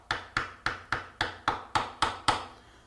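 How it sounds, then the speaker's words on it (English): A hammer taps on the truss rod nut of an electric guitar or bass, nine sharp, evenly spaced knocks in a steady rhythm, close and moderately loud, each with a short ringing decay. "I can prove this by hammering on the nut."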